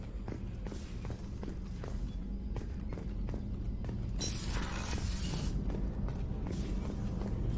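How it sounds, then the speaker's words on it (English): Footsteps sound aboard the Normandy starship in Mass Effect 2, a steady series of distinct, evenly spaced treads over a constant low engine hum, with a brief hissing swell midway. "I'm not used to hearing my footsteps when I walk"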